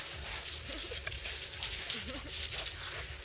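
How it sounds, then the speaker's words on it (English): A large dog on a beach makes soft whimpering and snuffling sounds close by, against steady background noise and faint talk. "We haven't seen this dog on the beach yet."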